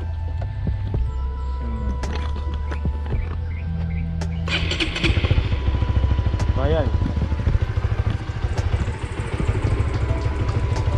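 A Honda Supra GTR 150 motorcycle engine starts about halfway through and settles into a steady close idle, with a person speaking briefly nearby.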